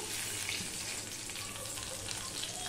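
Whole five-spice seeds and a torn bay leaf tempering in hot oil for a vegetarian cabbage dish, giving a steady, close, continuous sizzle and crackle with no talk.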